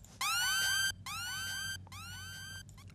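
A siren sample from the film Kill Bill wails in three rapid rising-and-falling cycles in a trap beat, each burst loud and close, separated by brief gaps.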